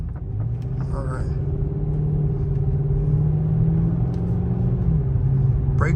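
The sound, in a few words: 2013 Dodge Charger R/T braking test with Powerstop Z26 brakes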